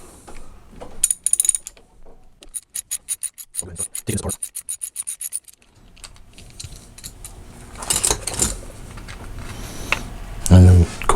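A socket ratchet loosens a 14 mm bolt on an S&W M76 semi-auto clone rifle, producing a quick, close burst of rhythmic clicks between rubbing and handling noises, with a voice speaking near the end.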